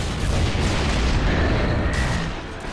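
Grenade blast in Gears of War, a loud booming explosion with a sustained roaring rumble that fades slightly toward the end, heard close and without talk.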